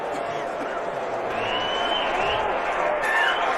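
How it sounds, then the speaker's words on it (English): A baseball crowd in the bleachers roars in sustained cheers and applause after a postseason home run. A broadcast voice talks over the noise as it swells slightly toward the end. "The crowd comes alive at Murphy's bleachers."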